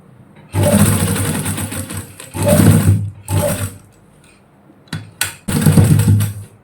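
An electric sewing machine stitches a kurti in short loud bursts, running in about four runs of a second or so with brief pauses between as it goes back and forth, plus a couple of quick jabs, close and alone.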